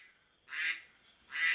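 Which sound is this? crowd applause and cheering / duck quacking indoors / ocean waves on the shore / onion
duck quacking indoors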